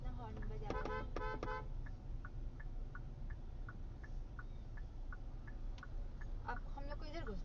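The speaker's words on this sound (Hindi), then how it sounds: "देख रही कौन कितना हॉर्न बजा रहा है।" Several short car horn toots sound from close by, followed by a steady run of evenly spaced faint beeps over a busy traffic rumble, then more honks.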